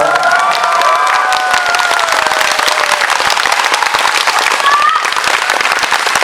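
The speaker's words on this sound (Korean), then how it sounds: "큰 박수 다시 한번 부탁드릴게요" A loud crowd at a film screening event with an actor's Q&A bursts into sustained applause mixed with cheers and shouts, filling the whole stretch with dense clapping.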